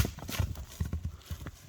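A heavy draft horse gallops briefly on a rural track, its hooves thudding in a quick uneven clip-clop, near and moderately loud with no talk over it.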